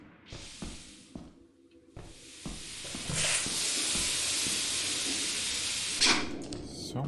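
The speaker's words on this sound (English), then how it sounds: "So much steam everywhere." Steam hisses in a video game as a broad, steady rush of noise that swells in after a few sharp clicks and thumps and holds loudly for several seconds, with faint voices under it.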